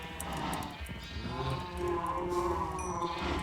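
Cows in a village-building game moo in long, drawn-out lowing calls, overlapping and moderately loud over a soft ambient background.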